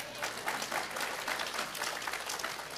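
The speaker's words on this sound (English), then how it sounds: "I give her a hand clap." Steady audience hand clapping in a church gathering: a dense, even patter of many hands at moderate volume that holds for the whole stretch with no voices over it.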